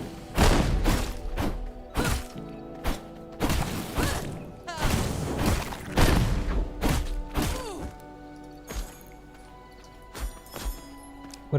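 Bombs go off in the video game V Rising as a series of sharp, heavy thuds and crashes at irregular intervals, several clustered close together and then sparser, punchy and near.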